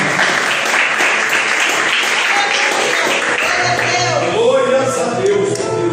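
Church congregation clapping in praise during a Holy Communion service, a loud dense wash of applause with voices and other sounds rising beneath it toward the end.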